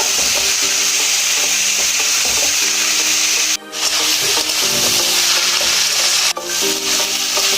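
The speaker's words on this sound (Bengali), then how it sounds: "সিদ্ধ করে রাখা মোচাটা দিলাম, একসঙ্গে কষিয়ে নেব।" Boiled banana flower stir-fried with spice paste in a pan, loud continuous sizzle with repeated rhythmic scraping strokes of a spatula, close up, broken by two short pauses, no talking.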